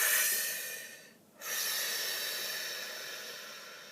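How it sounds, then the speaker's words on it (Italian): Two long, close breaths, an airy hiss fading out over about a second, a brief pause, then a second breath that swells and slowly trails off, with no talking. "Facciamo un bel respiro."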